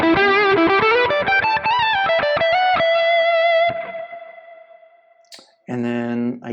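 Electric guitar lead tone from a Quad Cortex preset captured on a Nano Cortex: sustained distorted notes and quick picked runs, loud and close, trailing into a decaying tail before a final bright chord burst.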